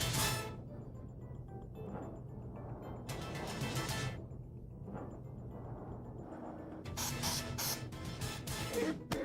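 Short bursts of OC pepper spray aerosol hiss out in a few separate blasts, the loudest pair near the middle and end, close, with muffled voices and movement between them.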